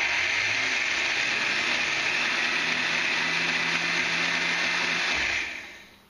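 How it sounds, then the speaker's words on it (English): A countertop blender whirs steadily while blending homemade mustard with salt and honey, a loud, even motor whine that holds for about five seconds and then winds down as it switches off. "And we're blending."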